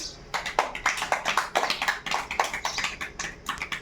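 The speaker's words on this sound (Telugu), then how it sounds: "క్లాప్స్" Children clap together in dense, uneven bursts of close hand claps that keep up steadily for several seconds, with no talking.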